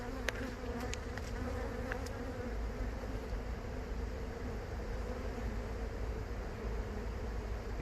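Honeybees buzzing around an open hive during a Devon beekeeper's inspection, a dense, continuous drone close by with a few sharper ticks early on, no talk.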